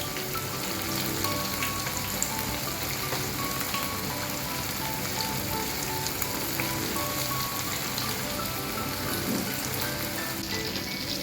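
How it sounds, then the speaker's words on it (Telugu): Chicken 65 pieces deep-frying over a slow flame, a dense, continuous crackling sizzle like steady rain, close and even throughout with no talking. "చికెన్ ముక్క చక్కగా ఫ్రై అవుతుంది."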